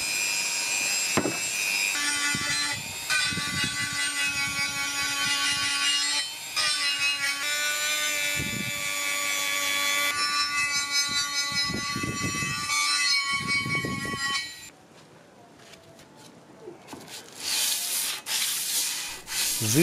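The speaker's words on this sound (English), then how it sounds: "This time I prefer to remove the steel with a rubber abrasive tool." A rubber abrasive tool grinds steel from an I-beam straightedge with a loud, continuous high whine and rasping scrape, sustained for long stretches before dipping briefly and resuming.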